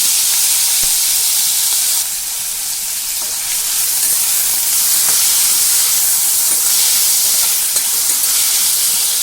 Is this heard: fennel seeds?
yes